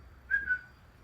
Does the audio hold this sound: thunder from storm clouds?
no